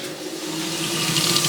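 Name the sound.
water running from tap fed by pump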